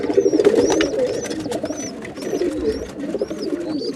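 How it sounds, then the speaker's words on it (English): Sixty to seventy pigeons in a loft with perches and nest boxes cooing together in a low, throaty murmur, with repeated soft calls and occasional higher chirps overlapping. "Right now, between the 2 sides, I've got somewhere between 60 and 70 pigeons."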